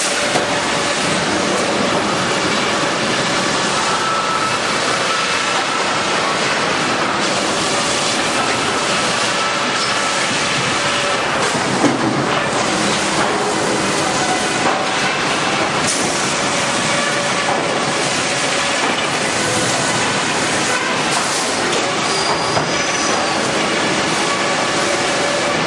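Sawmill machinery runs steadily, a carriage on an AC/DC drive with air and hydraulic controls and thin curved circular saws, giving a loud, dense, continuous rumble and clatter with no pauses.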